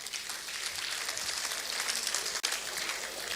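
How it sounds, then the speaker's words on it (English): Steady audience applause at a formal event in Nigeria, a continuous dense wash of clapping from many people throughout, with one brief dropout near the end. "I'd like us to please give him another round of applause."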